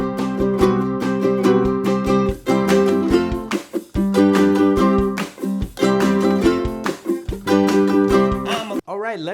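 A ukulele is strummed at tempo in a rockabilly off-beat up-strum pattern. Bright, rhythmic chord strums run with a few short breaks, close and loud, and a wavering note sounds at the end.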